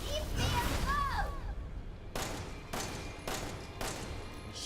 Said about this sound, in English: I'm shooting at her with my enhanced ammo